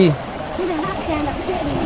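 River water rushes and splashes steadily over rocks at Banda Gadang, Sungayang, West Sumatra, a continuous churning flow heard close by under a person talking.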